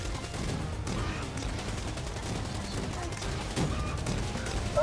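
Gunfire rattles in Call of Duty Black Ops 3 zombies mode, a dense continuous stream of game shots and effects at moderate level with no clear speech.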